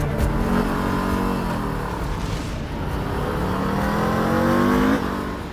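A Harley-Davidson motorcycle with a 121 cubic inch engine accelerates from close by, its steady loud drone rising in pitch across the run, easing briefly, then climbing again before settling.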